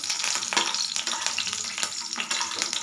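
Lentil dumplings (bori) lightly frying in oil give off a steady, close hiss of sizzling that holds for the whole stretch, with soft crackles and no voices.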